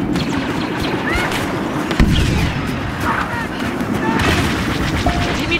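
Star Wars Battlefront multiplayer battle against walkers, with dense, continuous booming gunfire and artillery blasts rumbling close and loud, under radio-style voices calling out commands.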